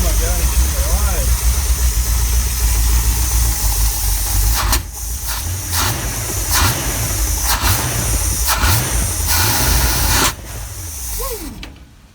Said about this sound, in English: This thing really did start up and idle by itself the first time I cracked the key over